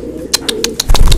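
Birds calling at a market, with a pigeon-like cooing and a handful of short, bright repeated notes over a low steady background rumble, close and moderately loud.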